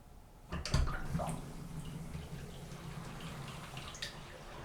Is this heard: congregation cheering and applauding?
no